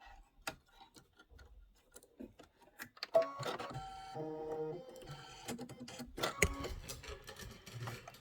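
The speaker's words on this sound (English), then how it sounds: "we are going to go ahead and do our placement stitch for our batting first" A home embroidery machine sewing a placement stitch for batting on a Kimberbell project, with rapid ticking needle strokes and a mechanical whir that grows busier midway, heard close with no talking.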